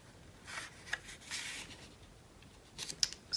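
Scissors snip through paper and cardstock while scrapbooking, giving several short, quiet crisp cuts with gaps between them, a little louder toward the end, and no voices.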